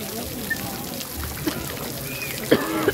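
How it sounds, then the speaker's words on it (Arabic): Water pours and trickles steadily at a waterfall by La Cascade café on the Sidi Harazem road near Fes, a moderate outdoor wash with faint background voices and a few small knocks. "هاد الكسكاد هنا زوين، هادشي راه طريق فاس ما بين سيدي حرازم ودخلة فاس."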